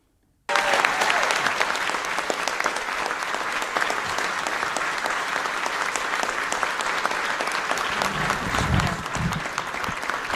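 After a brief silence, an audience breaks into sustained, dense applause. The clapping stays loud and even for around ten seconds with no break.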